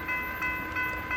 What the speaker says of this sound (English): I hear that train coming, it's rolling around the bend